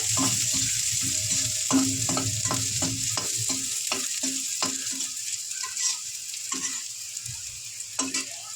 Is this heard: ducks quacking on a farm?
no